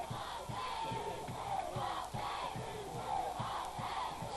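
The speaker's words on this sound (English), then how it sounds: "Standing room only crowd, and they're loving this one." A standing-room-only crowd at a 1995 high school football game between Bishop McDevitt and Harrisburg High roars and cheers steadily in a big outdoor stadium, a dense wash of voices with rhythmic shouts rising and falling.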